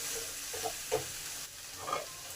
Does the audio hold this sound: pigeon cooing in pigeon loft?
no